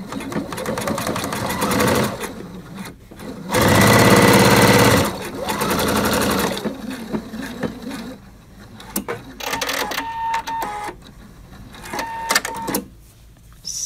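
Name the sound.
sewing machine sewing the back seam of a rib edge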